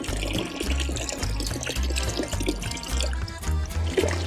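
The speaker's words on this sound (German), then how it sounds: "Yeah, eine Quelle. Da werde ich gleich nochmal meine Flaschen auffüllen." Water from a mountain spring in the Apennines pouring and splashing steadily as bottles are filled, a continuous close gurgling trickle with no talk.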